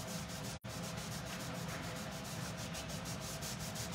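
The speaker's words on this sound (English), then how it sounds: "And you just rub it on" Stain being rubbed by hand onto a wooden tray: a steady, close, rhythmic rubbing and swishing that continues throughout with one brief pause near the start.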